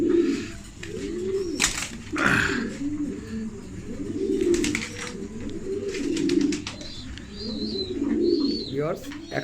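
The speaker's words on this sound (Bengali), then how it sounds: "আপনাদেরকে দুই জোড়া সবজি রেসার কবুতর দেখাবো খুব স্পেশাল কবুতর" Racing pigeons cooing repeatedly in soft, rolling bursts close by, with occasional chirps and faint background noise while a person talks over them.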